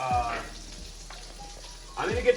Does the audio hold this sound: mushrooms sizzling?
yes